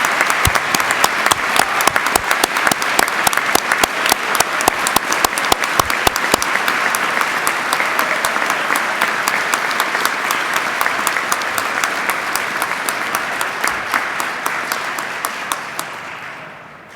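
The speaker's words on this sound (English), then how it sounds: "if you would please join me in a round of applause recognizing the 83rd Indiana State Police" A large audience applauds the graduating 83rd Indiana State Police recruit class at their ceremony, with sustained, dense clapping that stays steady and loud for the whole stretch before tapering slightly at the end.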